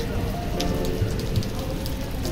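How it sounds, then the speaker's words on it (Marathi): Rain falls steadily and densely on surfaces outdoors during a cloudy storm, a continuous close hiss with scattered droplet patters. "बघा बघा पाऊस"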